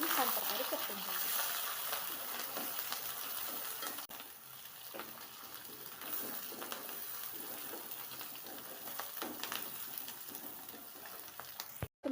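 Onions and green chilies sautéing in a pan, a faint crackling sizzle with intermittent scraping stirs, ending in a sudden clunk.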